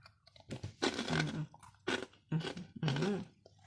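Crispy, hot fried chicken frames being gnawed and crunched up close, in four or five distinct bursts of crackly biting and chewing separated by short pauses, with no talking.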